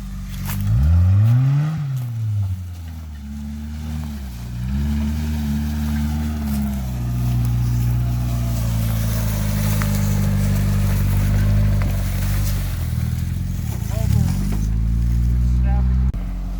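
A Suzuki Samurai engine fitted with a Toyota carburetor, in four-wheel-drive low, runs near and loud. The steady idle drone wavers and dips as the load changes, with voices talking over it.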